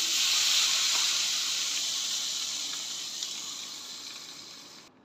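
Spices hitting one tablespoon of hot oil in a pan for Korean-style spicy Maggi noodles, giving a loud, steady sizzling hiss that slowly fades over several seconds and then cuts off, with no talking.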